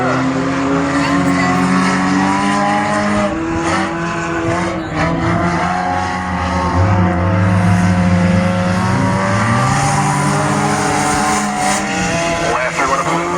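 Enduro race cars lapping during qualifying at Beckley Motor Speedway, West Virginia, a steady loud roar of several engines with tire squeal, under continuous commentary from a track announcer.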